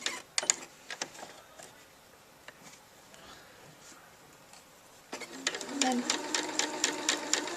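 A sewing machine stitches a pocket in short bursts of rapid mechanical ticking, stopping and then running steadily again, close by and fairly quiet, with a person talking softly between bursts.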